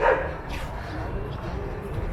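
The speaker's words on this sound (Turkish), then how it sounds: "Bir köpek havlıyordu bir yerde." A dog barks somewhere away in a Turkish caravan park, a couple of muffled yelps at the start followed by a low, steady outdoor rumble.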